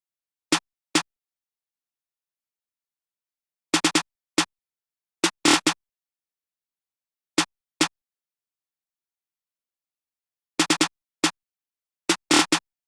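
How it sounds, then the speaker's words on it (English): A trap-beat snare pattern plays alone: single sharp hits spaced apart, broken up by quick stuttering rolls of three or four rapid strikes, all dry and punchy against silence. "so this pattern will sound like this"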